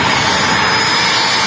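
Jet engines of a Singapore Airlines A350 taxiing at Manchester Airport, a loud continuous broadband roar with steady whine and no break across the short stretch.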